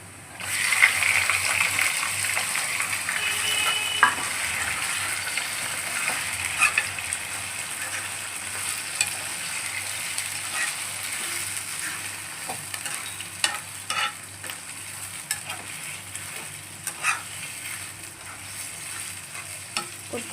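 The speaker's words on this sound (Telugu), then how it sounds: "ఇప్పుడు చికెన్ అనేది ఇందులో వేసేస్తున్నా." Chicken sizzles loudly in a hot pan over browned onions, with a continuous close frying hiss and scraping stirring strokes throughout, no voices.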